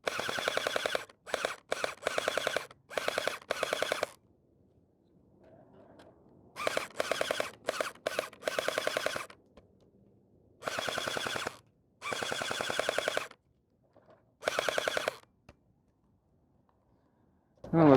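Cosmoxtoys Sirius gel blaster firing in rapid automatic bursts, several loud rattling strings of shots separated by short pauses, with faint background noise between bursts.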